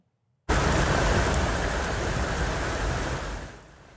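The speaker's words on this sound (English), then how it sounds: "heavy rains unleash dangerous flash flooding" Heavy rain pours during flash flooding in the Halifax region, bursting in abruptly as a dense, loud, steady roar with no voices, then easing off toward the end.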